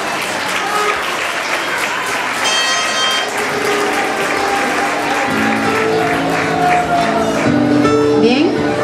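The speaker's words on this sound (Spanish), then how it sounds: "Un aplauso para ella, por favor." An audience at a local community event in Rio Blanco, San Marcos claps steadily for a girl named third place, loud sustained applause with a few voices underneath.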